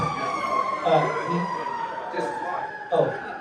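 An ambulance siren wails at a distance, a steady rising and falling tone running under ongoing talk and road noise.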